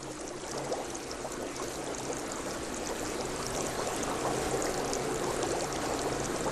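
Hot spring water bubbling out at its source, where the heat is too great for most life, makes a steady, dense rushing and gurgling wash that holds constant and fairly loud throughout, with no voices.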